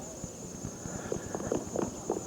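Horses stand hitched to a waiting carriage, their hooves clopping in an irregular, close-by series of soft knocks over a quiet background; no snorting stands out clearly.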